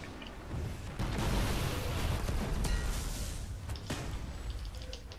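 Sharp gunshots in Destiny's Vault of Glass raid crack out a few times over a dense, rumbling background of battle noise.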